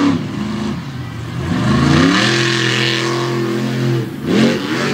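Big engine revving hard during a run at the 2022 All Star monster truck Championship, the FTI Torque Ram, with a sustained rising and falling roar that swells loudly and holds close, then dips and surges again near the end.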